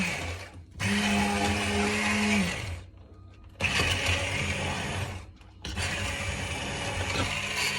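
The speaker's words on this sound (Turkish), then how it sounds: "blenderdan geçiyoruz işlem hemen hemen bir 15 dakika sürecek. iyice pürüzsüz hale gelene kadar." A blender pureeing red pepper soup runs in three long, loud bursts with brief pauses between, a steady whirring roar with a clear motor pitch in the first run.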